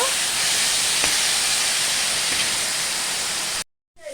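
Grated pumpkin and tomato frying in a pan for a sour rohu fish curry, giving a steady, loud, hissing sizzle that runs unbroken before cutting off abruptly into near silence.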